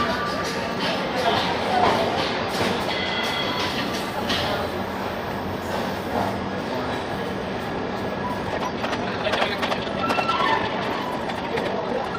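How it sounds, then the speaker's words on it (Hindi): Mandore Express pulls out of Jodhpur railway station with loud rumbling wheels and rail noise, continuous and close, while voices chatter around it. "हमारी ट्रेन जो है जोधपुर रेलवे स्टेशन से निकल रही है"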